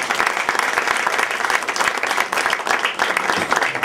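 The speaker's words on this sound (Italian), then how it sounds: "un applauso particolare" Sustained applause from the audience at a school cultural event, a dense, steady wash of many hands clapping close and loud throughout, with no pauses.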